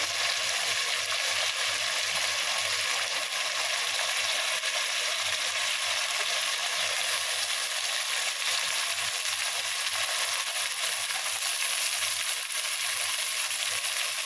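Tomatoes sauté in a hot pan as the base for a prawn biryani, giving a steady, continuous close sizzle and frying hiss with no breaks across the whole stretch.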